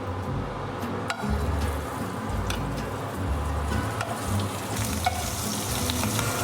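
Prawns seasoned with Felton spice fry in oil in a pan, a steady close sizzle with occasional crackles and stirring scrapes throughout, no voices.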